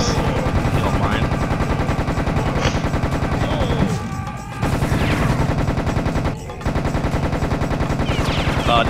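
Rapid, sustained bursts of Tommy gun fire in the Serious Sam Second Encounter shooter, loud and continuous with two short pauses between volleys.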